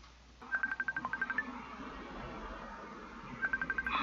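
A phone ringing with rapid electronic trilling tones in two bursts, a quick pulsing series of beeps, then a gap, then the same bursts again over a low background rumble.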